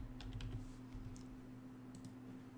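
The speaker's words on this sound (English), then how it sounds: "let's just type in prism" Soft keystrokes typed on a computer keyboard in software tutorial work, a few quick clicks scattered over a steady low electrical hum, with no talking.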